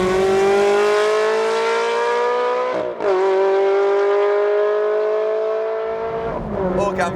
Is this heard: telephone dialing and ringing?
no